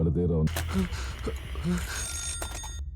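A telephone rings in the 2018 film KGF Chapter 1, its bell trilling briefly at first and then continuing faintly beneath people talking.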